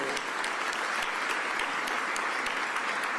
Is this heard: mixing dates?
no